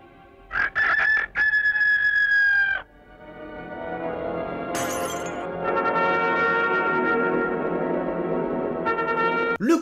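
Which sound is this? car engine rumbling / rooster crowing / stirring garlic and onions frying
rooster crowing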